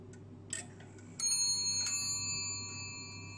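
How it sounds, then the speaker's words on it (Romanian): Swiss Le Castel mantel clock striking the half hour on two bells: a faint tick, then two clear ringing chimes close together, each leaving a long, slowly fading metallic hum, with no talk. "Și la jumate bate pe două clopoțele."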